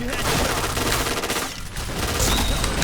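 A Kriss submachine gun firing in the shooter game Point Blank, with dense rapid bursts that run almost continuously and dip briefly, and a voice faintly mixed in beneath.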